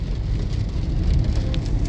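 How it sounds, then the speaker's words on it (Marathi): Heavy rain pours steadily during a thunderstorm in Hyderabad, a dense, continuous hiss and low rumble close to the microphone with no voices. "आज पाऊस बरोबर आला मोठ्याचा"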